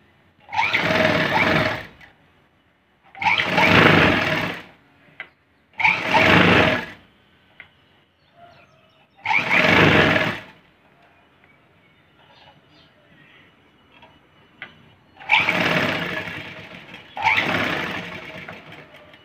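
A sewing machine stitches a blouse in short bursts of fast, close mechanical rattling, about six runs separated by pauses. Between them there are faint handling noises.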